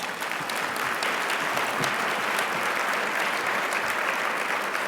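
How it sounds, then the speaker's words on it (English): A dense, even roar of audience applause fills a room at an awards event honouring women of Massachusetts, continuous and loud with a few crisp claps poking through. "Give yourself another round of applause."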